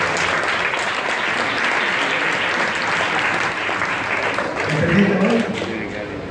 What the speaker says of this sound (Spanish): El fuerte aplauso